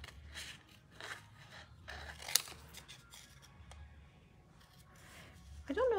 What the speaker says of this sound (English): So when you're fussy cutting, make sure to move the paper.